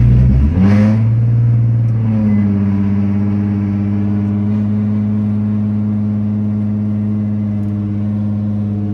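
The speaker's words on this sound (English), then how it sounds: "first drive after putting coolant in the system and purging it out" A Nissan Z car on its first drive after a coolant refill: a loud, close engine that revs up briefly, then settles into a steady low drone for the rest of the clip.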